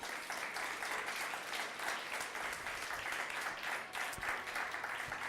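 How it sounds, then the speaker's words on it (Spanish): Congregation applauding during a church sermon, a steady, dense wash of clapping from a crowd that stays fairly even for several seconds with no talk over it. "Démosle un aplauso a Dios"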